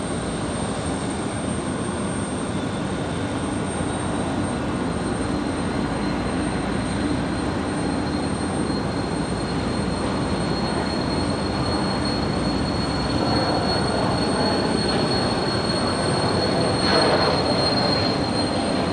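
An airliner departs Raleigh-Durham International Airport, its jet engines producing a sustained, loud roar with a steady high whine, building slightly toward the end.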